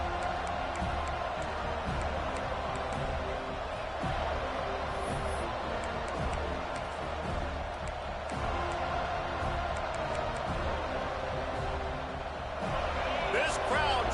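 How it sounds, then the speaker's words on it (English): Stadium crowd noise at a college football game in a video game, Utah at Florida State, a continuous broad roar with a commentator talking over it and a few sharp bursts near the end. "This crowd trying to show them what it's going to be like all day in this house."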